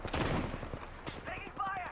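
Video game gunfire cracks out in a quick volley of shots, fairly quiet and mixed under game sounds.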